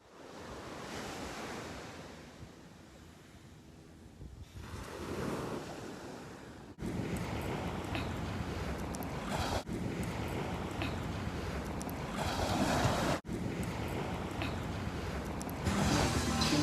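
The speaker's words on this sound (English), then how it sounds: "Our first stop of the day was at Venice Beach." Ocean waves at Venice Beach in Los Angeles, a continuous broad wash of surf with wind noise, swelling louder midway and rolling steadily on.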